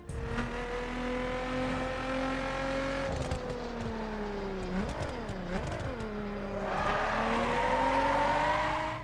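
Engines from the open-world racing game The Crew roar steadily with rising and falling revs, tires squealing and skidding through turns, a loud continuous race with sharp gear shifts midway.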